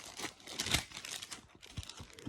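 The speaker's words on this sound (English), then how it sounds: "Page turn." A thin Bible page is turned up close, producing a soft papery rustle and crinkle that lasts a couple of seconds.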